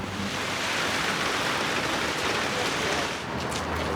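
Steady rain pours down over a city street, a dense, even hiss that fills the whole stretch without pause, close and fairly loud, with no voices.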